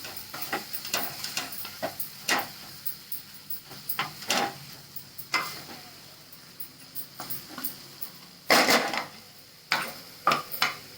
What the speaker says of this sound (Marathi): परत चांगलं हलवून घ्यायचं